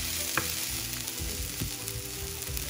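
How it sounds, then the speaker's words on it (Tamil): Onions and curry leaves sautéing in a pan, a steady close-up sizzle with repeated scraping stir strokes, no voices. "இது நல்லா வதக்கி எடுத்துக்கோங்க."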